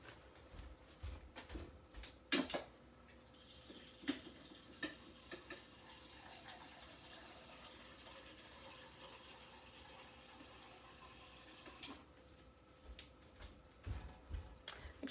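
Water running from a kitchen tap into a cup while preparing a stir-fry sauce, a soft, faint steady flow interrupted by occasional clinks and handling knocks.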